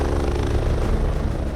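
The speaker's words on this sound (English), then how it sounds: "The helicopter has been cleared for landing at a local oval near the accident site." An air ambulance helicopter on final approach to land at a local sports oval near an accident site, its loud, steady rotor and engine drone pulsing throughout, close and continuous.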